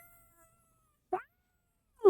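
A man imitates a cat with his voice, letting out two short, loud meows separated by silence, each a brief nasal yowl following a faint bit of speech.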